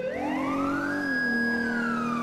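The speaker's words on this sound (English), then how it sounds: "Let me keep my siren on for this turn right here." A police car siren wails in GTA 5 with the LSPDFR mod, a loud, close tone sweeping upward and then holding high before slowly sliding down.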